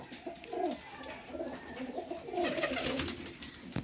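Pigeons cooing in a pigeon loft, several soft rolling coos repeating close by over a faint background hum.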